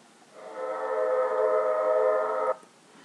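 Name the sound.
train whistle blowing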